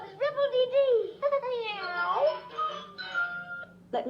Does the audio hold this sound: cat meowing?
yes